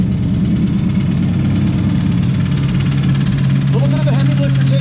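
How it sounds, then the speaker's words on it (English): A 2007 Dodge Charger SRT8 with a 6.1L Hemi V8 idles steadily and loudly up close, a constant low rumble with faint ticking, and a voice briefly enters near the end. "Let's take a listen to the motor here."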